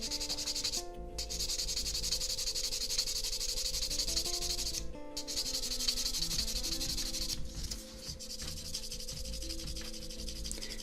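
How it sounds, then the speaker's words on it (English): Steady fine scratching and rubbing of sanding a plastic Gundam model kit part, close up, running continuously with soft tonal background sounds. "So what you could do then is do a bit of sanding on it."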